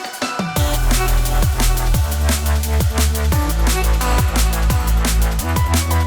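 A liquid drum and bass track plays loud and full after a brief quiet start, with a steady punchy kick and snare beat, deep rolling bass and bright layered pads and melodies.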